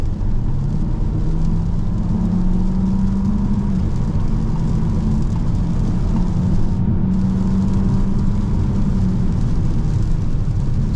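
A Peugeot 508 PSE hybrid in all-wheel drive accelerates at full throttle, a loud, constant low engine drone with a gently rising tone and strong road and cabin noise throughout, heard from inside the car.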